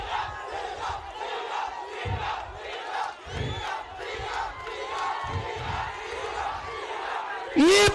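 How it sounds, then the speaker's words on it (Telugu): A large outdoor crowd at a Congress Vijayabheri public meeting in Adilabad roars and chants for Revanth Reddy, a sustained loud mass of voices with surges of shouting. "ఒకసారి గట్టిగా అందరూ తెలంగాణ రాష్ట్రానికి కాబోయే ముఖ్యమంత్రి మన రేవంత్ రెడ్డి అని గట్టిగా చప్పట్లు కొట్టాలా"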